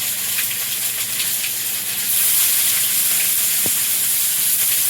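Panch phoron five-spice mix frying in hot oil, a steady loud sizzle and hiss that swells slightly partway through, with a brief clink near the end.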